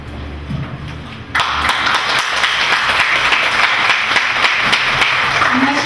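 After a brief quieter moment, a parents' education gathering erupts into loud, sustained clapping to welcome a professor, the dense applause running unbroken and close for several seconds.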